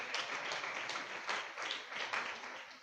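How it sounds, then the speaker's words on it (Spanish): Steady applause from a church congregation during a Spanish-language sermon, dense overlapping clapping held at an even level from start to end, moderately distant in a reverberant room. "Dele un aplauso a los que le hacen falta cambiar."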